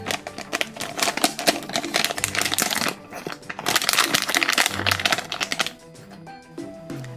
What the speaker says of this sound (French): Et il y a aussi ce sachet qu'on va ouvrir tout de suite.